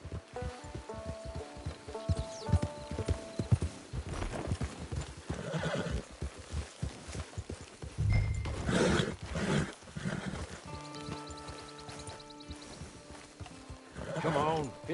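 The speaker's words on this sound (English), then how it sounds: "Get your horse." Hooves clatter in a quick, close rhythm with loud neighs and snorts from a horse in the online Western game Red Dead Online, set against talk and background music.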